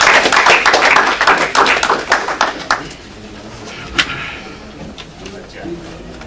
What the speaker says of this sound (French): Mesdames et messieurs, je vous demande de l'accueillir sous vos applaudissements